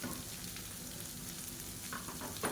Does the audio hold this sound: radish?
yes